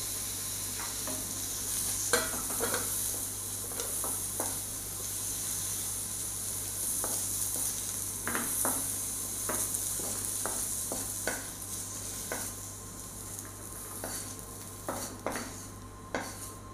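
Bitter gourd sautés in a pan with a soft continuous sizzle, broken by irregular clinks and scrapes of a utensil stirring against the metal, with a low steady hum underneath and no speech.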